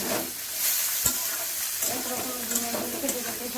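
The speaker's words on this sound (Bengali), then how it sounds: "এখন লঙ্কাগুলো দিয়ে দেবো।" Green chillies hit a hot pan for Dhaba-style egg kosha, giving a steady, loud, close sizzle of frying with a few sharp stirring clicks throughout.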